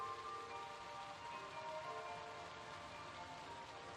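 Constant rain hisses softly in a zombie video game, a steady, even wash of patter under a faint tonal background hum, with no talking.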